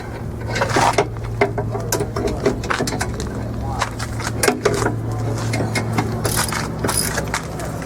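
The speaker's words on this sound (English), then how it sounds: "Millimeter socket and ratchet." Socket and ratchet working on rear brake bolts of a Mercedes 190D or 190E, a run of quick metallic clicks and clatter, close and moderately loud over a steady low hum.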